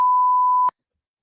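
A censor beep: one loud, steady electronic tone held for about two-thirds of a second, then cut off abruptly into silence.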